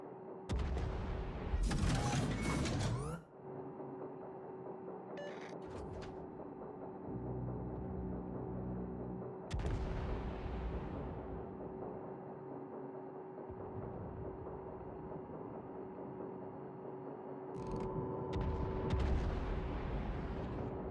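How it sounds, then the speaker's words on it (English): Warship naval guns fire in a World of Warships ranked battle: a loud opening salvo, then several deep booms spread across the stretch over a constant engine drone, and a final burst near the end. "Concentrate fire on the enemy warship."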